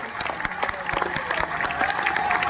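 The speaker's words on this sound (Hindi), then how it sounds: "ये एक बार ताली जोरदार बजा करके धन्यवाद।" A crowd at a live Delhi-to-Vrindavan Sanatan Hindu unity padyatra event claps loudly in a steady, dense roar of hand claps that stays strong throughout, with a voice faintly mixed in.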